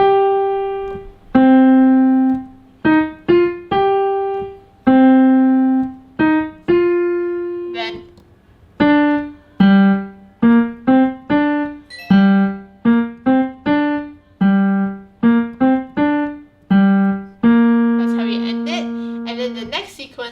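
A simple piano melody of a title theme over chords, notes played at a moderate, even pace with short pauses between phrases; close and clear, no voices.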